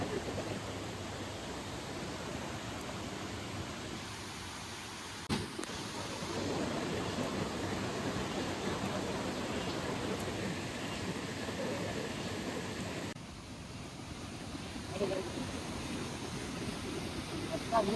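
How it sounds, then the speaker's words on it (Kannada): A small roadside waterfall pours in a steady broadband rush of falling water, continuous and fairly close, with no voices over it and a brief bump and a shift in tone partway through. "ಇದು ಮಿನಿ ವಾಟರ್ ಫಾಲ್"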